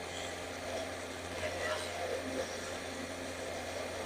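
An electric motor of about 1000 to 1200 watts runs steadily at speed, a constant mid-pitched hum with a whining tone, close and even throughout with no break.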